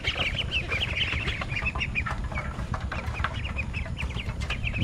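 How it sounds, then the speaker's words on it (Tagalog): A flock of chickens clucks continuously nearby while eating, overlapping busy calls over a steady pecking and scratching bustle, with no speech. "Ginadala natin pagkain, kinakain na ng manok."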